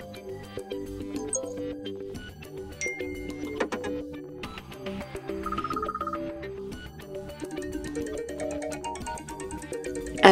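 Several iPad Air AirDrop alert tones previewed one after another, a sequence of short electronic chimes, beeps and melodic jingles, close and clear with no talking.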